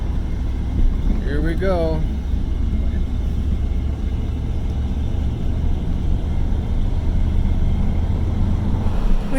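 A jeep drives with the gas held down and the transfer case under pressure, giving a loud, steady engine drone and road rumble throughout, with a brief spoken remark near the start.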